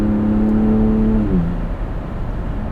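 Ford Bronco Raptor on the move, loud tire roar and engine drone with a sustained tonal whine that drops in pitch midway, the noise easing slightly toward the end.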